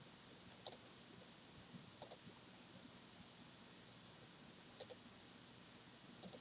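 Computer mouse clicks come in quick pairs, four sharp double clicks spaced a second or two apart, close and crisp over a faint quiet room hiss.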